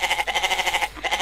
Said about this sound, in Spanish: agregar el sonido de las cabras